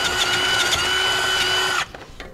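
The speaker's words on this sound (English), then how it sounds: "as I drill these out, I like to start with a smaller bit and get a pilot hole created" A power drill with a step bit bores holes in the frame of a 2017 Ford E-Series van during a rear anti-sway bar install. It gives a steady, close, high motor whine that cuts off sharply near the end.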